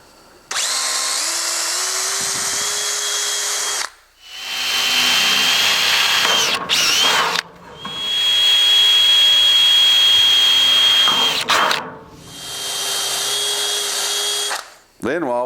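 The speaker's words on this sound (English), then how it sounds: "So let me drill some holes." Power drill boring pilot holes in metal roofing for a pole barn, four loud close whining bursts separated by short pauses, with the pitch shifting as the bit cuts through.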